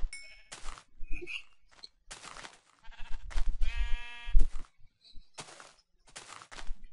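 Sheep in the Minecraft game bleat in a series of short, separate calls, one drawn-out, wavering bleat in the middle, with quiet gaps and soft thuds between them.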